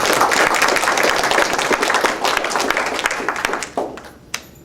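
An audience applauds with dense, sustained clapping at a talk given by a WWII veteran about a bombing raid, then fades into a few scattered final claps.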